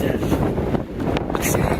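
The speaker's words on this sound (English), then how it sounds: "Okay, it's getting so windy." Strong wind gusts roar across the microphone outdoors near hills, a steady broadband rush with buffeting low rumble throughout, loud and continuous with a brief lull in the middle.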